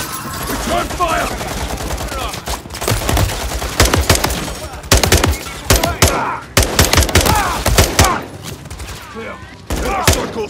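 Gunfire in the shooter Call of Duty: Modern Warfare 3 during a firefight with police, with loud bursts of automatic fire and single shots crackling repeatedly and voices shouting between them.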